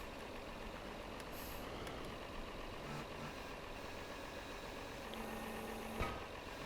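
Constant low rumbling engine drone of a tractor in Farming Simulator, idling and running, steady throughout with a brief faint clank near the end.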